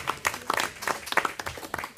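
An audience gives brief, scattered applause after a project presentation, with a handful of distinct hand claps landing irregularly over a couple of seconds.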